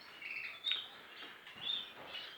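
Pet birds in an aviary giving faint, sparse chirps and short tweets, a few brief calls spread across quiet background hiss, no talking.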